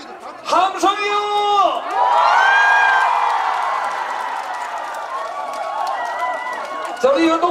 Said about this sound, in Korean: 함성이요.